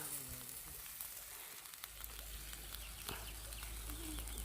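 Chicken and pork belly grilling on a barbecue grill beside a canal stream, a steady broadband sizzle with a low hum, no talking.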